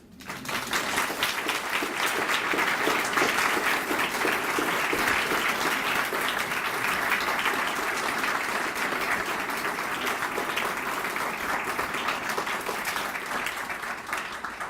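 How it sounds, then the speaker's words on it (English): An audience gives Professor Fogler a long, sustained round of applause at his celebration, dense clapping holding steady throughout with no talk over it. "may we please clap hands for him"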